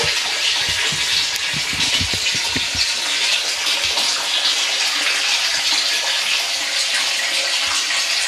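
Water pours steadily into a Nissan Micra being filled as a fish tank, a continuous bright gushing and splashing heard close up, with a few low knocks early on and no talking.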